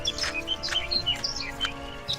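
Small birds in an animated story chirp and tweet in quick, bright bursts, several calls close together, clear and alone over a soft background hum.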